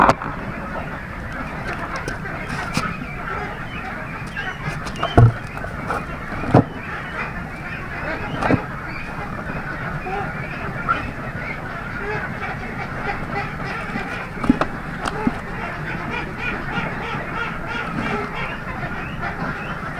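A flock of young ducks, about seven weeks old, quacks and honks steadily throughout at close range, with a few louder calls standing out from the continuous chatter.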